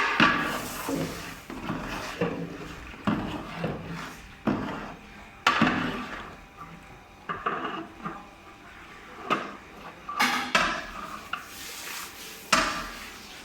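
Dried onions stirred into a pot of white chickpeas, with a spoon clanking and scraping against the pot in irregular knocks and scrapes over several seconds, fairly close.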